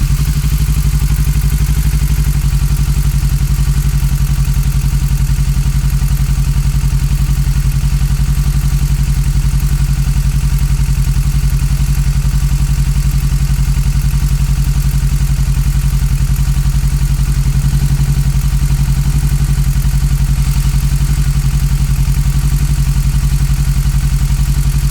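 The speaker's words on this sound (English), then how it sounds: "So let's switch the bike back on and see what this gives us." A motorbike engine idles steadily and loudly close by, a constant low throbbing drone picked up by several microphones, unchanging throughout.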